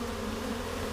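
A swarm of bees produces a steady, droning buzz, close and even in level, with no other sounds over it.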